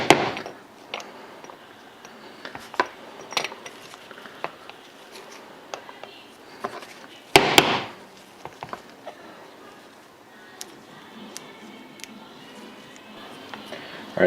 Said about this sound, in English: now I'm going to take my larger punch and drive the pin in all the way